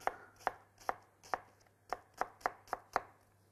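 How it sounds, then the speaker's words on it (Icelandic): A knife chops a plain onion, cored, into coarse small cubes on a board for a tomato, onion and garlic vegetable sauce: about ten crisp, evenly spaced cuts, close and clear, with no talking. "Hann fer líka bara í grófa, litla teninga."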